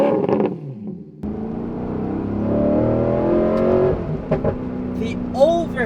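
An Alfa Romeo 8C Spider sports car engine roars and climbs in pitch as it accelerates hard, with a voice speaking over it near the end.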